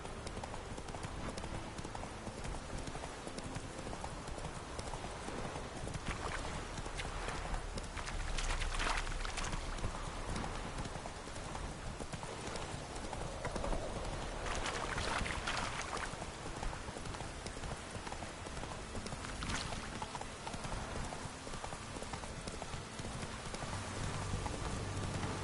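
Hooves of the horse Roach galloping across open ground in The Witcher 3: Wild Hunt, a steady quick clip-clop rhythm that runs throughout at moderate distance, with faint ambient patter beneath.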